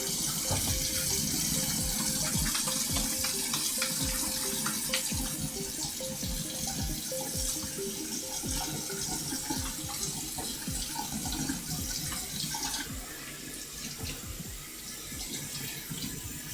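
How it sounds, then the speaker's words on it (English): Hands being washed under a running tap at a kitchen sink, with water splashing and gurgling steadily and close for the whole stretch, irregular sloshes as the hands move, and no voices. "Give my hands a good hand wash here first."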